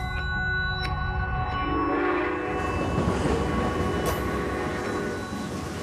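Pakistani passenger train heading toward Lahore in Punjab, a steady loud rumble of rolling wagons with a sustained horn blast building through the middle, close by, with no talk.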